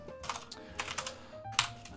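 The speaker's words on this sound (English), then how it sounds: "press that little tilde key on your keyboard" Quiet keystrokes on a computer keyboard, a handful of separate clicks and taps in an uneven rhythm with no voice over them.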